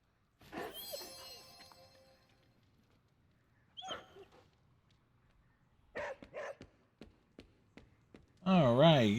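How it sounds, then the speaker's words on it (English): A dog barks in the video game Marvel's Midnight Suns, giving a quick run of short, sharp barks partway through amid game sound effects and music, with a person talking early on. "get those dog barks"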